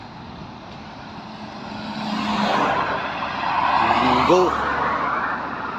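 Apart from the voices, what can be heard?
cars passing one after another at stoplight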